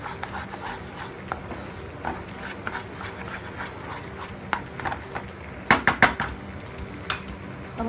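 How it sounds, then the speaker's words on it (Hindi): Milk is stirred into white sauce for pasta in a pan, with irregular clinks and scrapes of a utensil against the pan that grow louder in a short burst near the end. "इसको अच्छे से मिक्स करेंगे"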